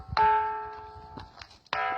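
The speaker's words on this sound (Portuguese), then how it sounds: "Essa pedra aqui, quando a gente bate nela, ela emite um som, parece um sino." A bell-like stone, the Pedra do Sino, is struck twice and rings with a clear metallic tone that lingers and fades, loud and close.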